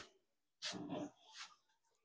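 A dog gives a short breathy whine or huff, followed by a second softer vocal sound, close by in an otherwise quiet space.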